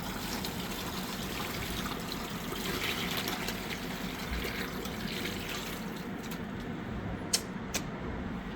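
Brine poured into a bucket over a turkey: a continuous soft liquid splash and trickle, fairly quiet and steady, ending with a couple of small clinks.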